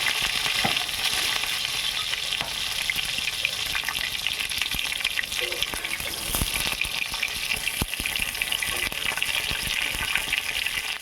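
Pointed gourd (potol) frying in hot oil gives a steady, dense sizzle with a few soft crackles, close and constant, with no talking.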